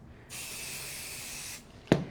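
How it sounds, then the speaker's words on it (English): Odif 505 temporary fabric adhesive sprays onto the back of blanket fabric in one steady hissing burst of about a second, close and clear, followed by a short click. "I'm just using the 505 spray. I'm just going to spray the back of it."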